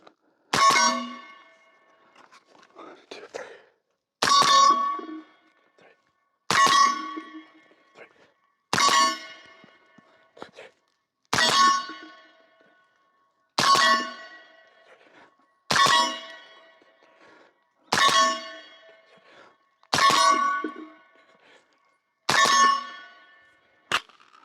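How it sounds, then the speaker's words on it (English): A suppressed Q Honey Badger rifle fires paired shots at steel targets, about ten sharp cracks and ringing clangs at evenly spaced intervals, each fading into quiet before the next. "I'm gonna do some double taps on some steel, see how many of them I could hit in a row."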